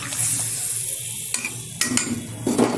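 Fish pieces hit hot oil in a pan while making a Bengali fish curry with cauliflower and potato, giving a close sizzling hiss with a few sharper crackles and light pan clatter.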